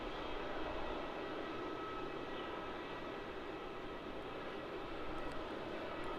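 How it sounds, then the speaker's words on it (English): A Jetstar A321neo airliner departs Melbourne Airport, its engines a steady broad roar held at a distance, unbroken through the whole stretch with no voices. "And departing now, we have JQ43, a Jetstar A321neo."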